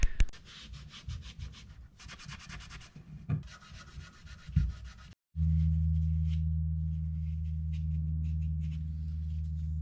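A rag rubs Autosol polish over chrome parts of a 1951 Chevy steering column, soft scrubbing strokes for about five seconds, then a loud steady electrical hum takes over.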